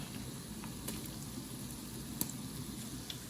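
Ghanaian chicken stew with tomato paste simmers in a pot, giving a soft, steady bubbling sizzle with a few faint clicks and pops and no talk.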